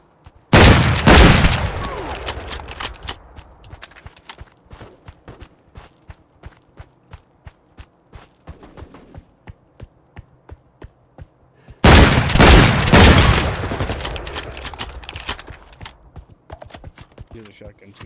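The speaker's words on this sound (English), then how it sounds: "I can't tell if I'm hurting myself more or hurting the enemies with my shotgun." Shotgun blasts in a video game, with two heavy booming bursts of rapid fire a few seconds long, separated by a stretch of sharp, regular footstep-like clicks.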